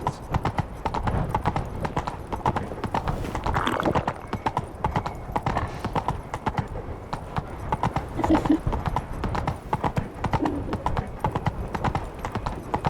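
Roach, the horse in The Witcher 3, gallops steadily with a continuous rhythmic clip-clop of hooves that runs the whole way through. A brief whinny and faint game voices sit underneath.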